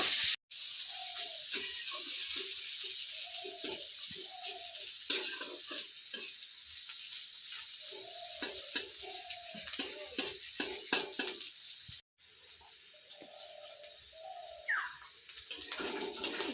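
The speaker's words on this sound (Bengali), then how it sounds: "গাজরটা হালকা করে ভেজে নিয়েছি প্রথমে" A carrot fries lightly in a pan for a vegetable chowmein, giving a soft continuous sizzle with repeated scraping strokes of a spatula and some small clatters.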